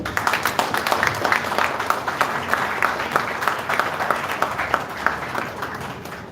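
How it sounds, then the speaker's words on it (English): Steady audience clapping fills a college event hall, a dense, even wash of many hands throughout, fairly loud and close. "Please keep clapping."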